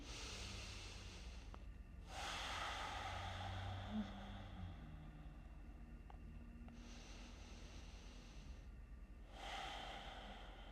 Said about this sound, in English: Stay with your breath. 2 breaths here.